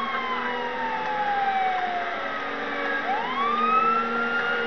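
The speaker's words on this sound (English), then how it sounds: "I don't know how to turn my siren on without the lights." A police car siren in a video game wails steadily, its tones sweeping down and then up again, loud and continuous with no talking over it.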